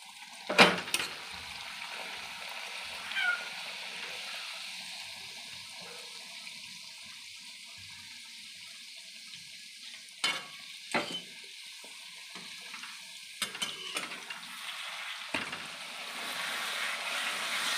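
Spinach puris dropped into hot oil in a wok, a steady hissing sizzle running throughout, with occasional louder bursts and clatters.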